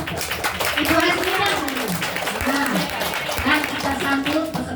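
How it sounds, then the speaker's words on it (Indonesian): An audience at a creative teachers' competition applauds a teacher, scattered clapping running under a speaking voice from start to finish. "Kita beri aplaus yang meriah untuk Ibu Hasmina"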